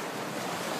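Ocean surf washes steadily with a breezy hiss on a gorgeous day by crystal-clear water. The sound is a brief, faint, even rush of waves and wind with no voices.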